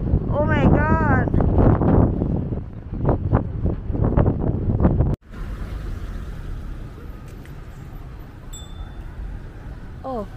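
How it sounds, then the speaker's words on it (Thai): Strong wind blowing across the microphone on a city street in Zurich, a loud steady roar and buffeting. Someone speaks over it in the first half, and the gusts continue alone afterwards. "โอ้ยลมแรงแดดดีแต่ลมแรงมากค่ะ"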